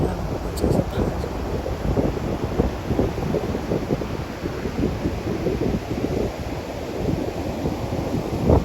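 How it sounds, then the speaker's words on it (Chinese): Muddy sea waves break on a beach in a continuous loud wash of surf, one wave after another, with wind buffeting the microphone and faint voices in the background. "走近一点看这些海浪"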